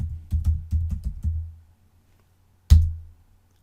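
Keys clatter on a computer keyboard as a word is typed, a quick run of close clicks followed by a pause and then one firm keystroke.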